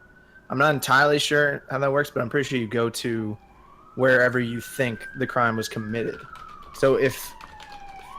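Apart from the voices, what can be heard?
emergency vehicle sirens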